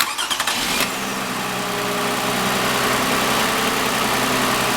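A car engine cranks with a brief rapid starter churn, then catches and settles into a steady, loud idle heard close by with no talking.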